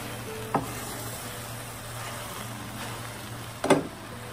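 Mie goreng noodles with bok choy stir-fried in a pan: a steady low sizzle with a soft hum underneath and two brief scraping stirs, close and fairly quiet, with no voices.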